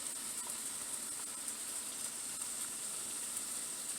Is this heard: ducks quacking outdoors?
no